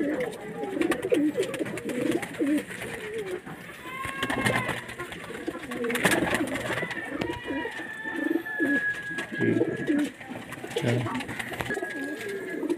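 A lot of twenty pigeons for sale coo repeatedly in soft, throaty bursts, close and overlapping, with occasional rustling and a faint background whistle.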